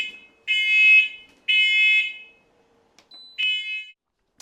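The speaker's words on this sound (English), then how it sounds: "Well, I guess my smoke alarm is going off." A home smoke alarm goes off in a kitchen while pulled pork cooks, giving three loud, shrill electronic beeps, each about half a second long, with brief gaps between them.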